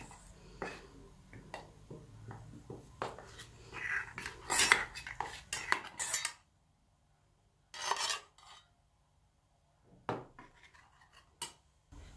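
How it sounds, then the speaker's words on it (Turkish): A utensil stirs milk and dark chocolate into warm cream in a pot until it melts, making light scraping and clinking strokes against the pot in irregular bursts with short silent pauses and no voices. "80 gram da bitter çikolata ekledikten sonra içerisindeki çikolata eriyene kadar karıştıralım."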